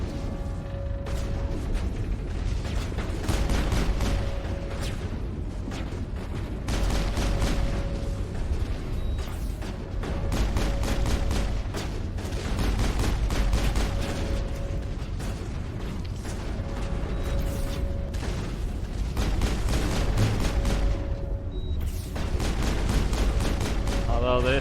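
Sniper gunfire and combat in the video game Mass Effect, repeated shots and impacts crackling over a steady low rumble, with someone talking intermittently throughout.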